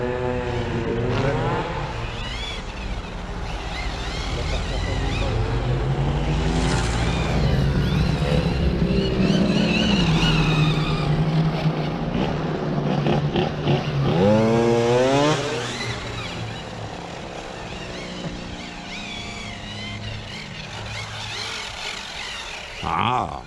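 Hobao 10SC electric RC car drifting on wet painted pavement, its motor whining and rising in pitch through repeated bursts, fairly close, with people talking over it.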